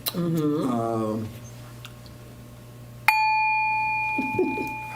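A struck gong sounds once, opening with a sharp attack and then a long, steady ringing shimmer that fades slowly, following a stretch of low hum and a brief vocal sound before it.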